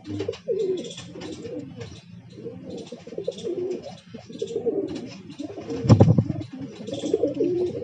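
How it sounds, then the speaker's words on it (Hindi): Pigeons coo repeatedly in low, throaty bursts, with a flurry of wing flaps near the end; no talking. "देख सकते हैं आप कबूतर की मस्ती, बहुत ज़बरदस्त माशाल्लाह।"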